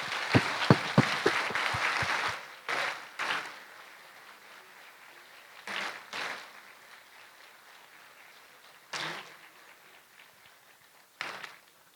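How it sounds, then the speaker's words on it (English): At a secondary school graduation day, the audience applauds the class of 2025 with a burst of brisk clapping for about two seconds. It is followed by scattered short rustling bursts and shuffling in a quiet hall. "will you join me to give a round of applause to the class of 2025?"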